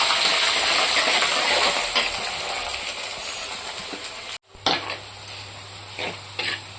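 Sliced onions frying in hot oil in a pan for Tamil fish curry, a steady loud sizzle with a few stirring clatters, a brief break midway, then renewed crackling.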